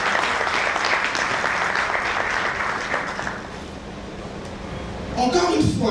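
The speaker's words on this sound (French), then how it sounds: "je demande d'applaudir de manière très chaleureuse" Audience applause for a minister at the Label 2019 award ceremony, with loud, dense clapping that gradually fades before a voice begins speaking near the end.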